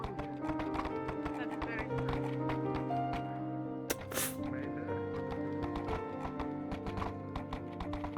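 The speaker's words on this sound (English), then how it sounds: "Miss Ladia, I can show you where to tie up your horse." Rhythmic clip-clop of horse hooves trotting steadily in a VRChat roleplay game, mixed with talking and layered game music, with a brief bright burst midway.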